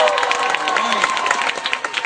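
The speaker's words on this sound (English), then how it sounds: "give us a big cheer" Passengers aboard the cruise ship Enchantment of the Seas cheer and applaud together, a dense, steady wash of crowd noise with mixed voices and clapping throughout, fairly close and loud.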